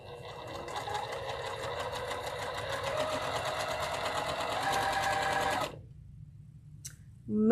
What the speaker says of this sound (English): Making stitches now.